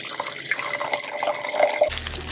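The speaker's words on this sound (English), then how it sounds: "Can't forget water." Water runs from a tap into a container for acrylic painting, a steady close splashing trickle with faint dripping and ringing tones throughout.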